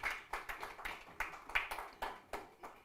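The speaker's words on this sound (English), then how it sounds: "I think we could give them a round of applause." A small workshop audience claps sparsely, with a dozen or so distinct hand claps in an uneven rhythm, fairly close and moderately quiet.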